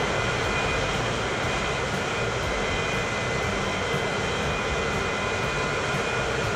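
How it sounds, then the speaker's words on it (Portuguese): A fast airplane in the Transport Fever 2 game, approaching São Paulo airport, gives a loud, steady engine drone that runs unbroken throughout, with no talking. "Muito rápido esse avião."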